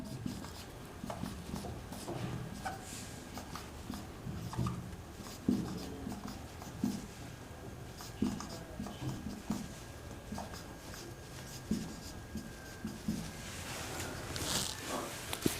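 Pen on paper while writing out an equation by hand during a maths lesson, faint soft scratching and tapping strokes in irregular bursts, close and quiet against a low room hum.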